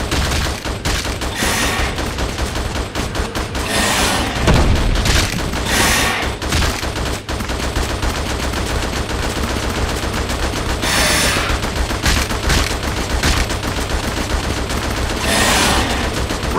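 Dense, continuous gunfire bursts and rapid volleys fill the Xbox 360 shooter Attack Of The Movies 3D during a scorpion boss fight, with loud booms scattered through the barrage and no voices.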